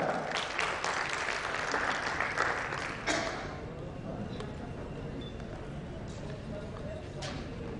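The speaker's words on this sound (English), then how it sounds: "A round of applause for Dr. Samit Shah." Audience applause at a healthcare infrastructure summit in Rajasthan, a dense burst of clapping from a seated crowd for about three seconds before fading into softer scattered claps and room noise.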